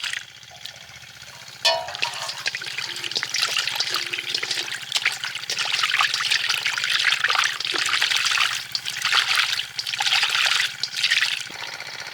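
Mussel meat is washed with turmeric water outdoors by a riverside, with close, continuous splashing and trickling water as hands rinse it, growing busier after a sharp knock early on.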